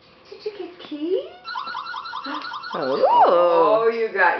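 Electronic beeps and warbling siren-like tones from toy car keys play in quick bursts, with a few voices and a small child's sounds mixed in.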